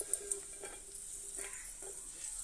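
Raisins and nuts frying in a pan for semiya kesari give a faint, steady sizzle with a few soft stirring scrapes, no voices.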